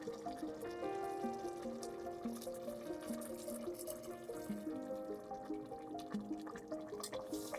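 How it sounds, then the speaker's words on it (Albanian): Water pours steadily into a pot, its pitch rising as the vessel fills, with a gurgling, bubbling texture; quiet, with no speech. "Tashti shtoj pak ujë ngrohtë."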